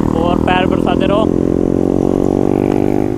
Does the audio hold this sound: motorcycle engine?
yes